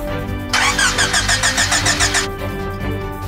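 A car engine cranks in the Wii game Ultimate I Spy, a loud rhythmic starter whir of about a second and a half over a steady electronic hum, then stops.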